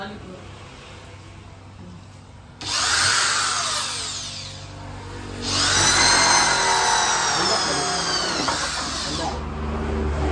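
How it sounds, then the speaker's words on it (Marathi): A power drill whines loudly in two long bursts, grinding through a water drum to bore a hole, with a rising, straining pitch over a low background hum. "ड्रमला होल पाडण्यासाठी ड्रिल मशीन लागणार आहे"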